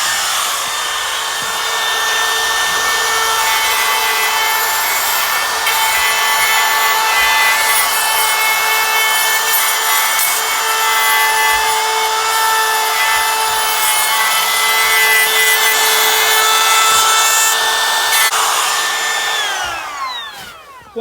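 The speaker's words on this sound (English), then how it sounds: "So what I'll do is I'll set the depth of that flush trimmer bit there." A DRT50 trim router fitted with a flush trim bit cuts into a cedar door, giving a loud, continuous high-pitched whine with a rough cutting rasp that holds steady for about twenty seconds before spinning down at the end.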